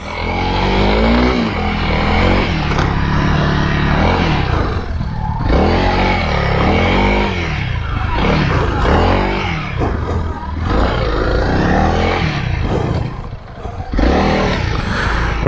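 A 2021 Honda CRF300L dual-sport motorcycle is ridden hard on a track, its single-cylinder engine revving up and down loudly and continuously, with wind roar and clatter close to the rider.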